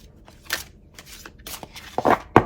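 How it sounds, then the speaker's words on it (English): Tarot cards being roughly shuffled by hand with long nails, irregular papery riffles and soft slaps in short bursts, close up in a quiet room. "It's really hard for me to shuffle with my nails, so it's going to be a rough shuffle,"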